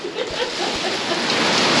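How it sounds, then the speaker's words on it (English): Heavy rain pouring down outdoors in a sudden deluge: a dense, steady hiss of drops striking surfaces close by, with a couple of low thumps, filling the whole moment without a break. "I got rain on the lens."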